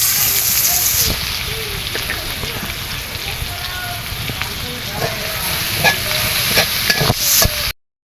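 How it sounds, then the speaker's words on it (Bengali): Loud, steady sizzling of onion and green chilli paste frying in hot oil, with stirring scrapes and occasional pops throughout, cutting off abruptly at the end. "এখন আমি এই তেলে পেস্টটি দিয়ে দিব"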